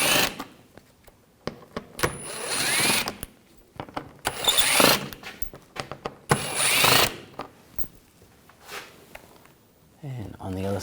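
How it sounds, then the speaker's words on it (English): A power driver with a T25 socket backs out the panel screws on a 2011-2018 Volkswagen Jetta TDI Wagon, in three loud whirring bursts separated by quieter handling clatter. "I'm going to remove this panel, take these screws out, use a T25 socket"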